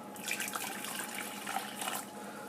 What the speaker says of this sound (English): what I'm going to do is I'm going to pour it into this saucepan